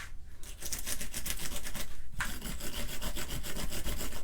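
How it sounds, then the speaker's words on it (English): A small scrub brush rubs back and forth over a rubber stamp during card making, giving a steady, close, dry scratchy scrubbing that runs almost without pause from start to finish, with no talk. "give it a good scrubbing with this little brush that I have here"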